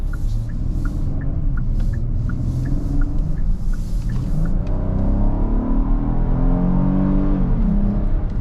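A 2024 Kia Carnival SX in sport mode accelerates from inside the cabin, its engine note rising steadily through the rev range as a loud, continuous rumble, with a gear change and a soft repeating chime early on.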